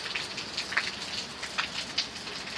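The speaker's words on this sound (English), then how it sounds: "Let's see if I can get the rain in here, like you've never seen rain." Steady rain falls on surfaces outdoors, a soft continuous patter with scattered louder drops tapping nearby, quiet and without voices.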